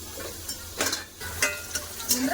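Pointed gourd slices fry in a pan, a soft sizzle underlying several sharp scraping and tapping bursts as a spatula turns the pieces, spaced irregularly and fairly close.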